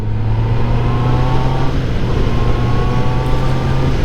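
A QJ Motor SRK 800 four-cylinder roadster motorcycle accelerating smoothly, its engine note loud and close with a steady rising drone and no voices over it.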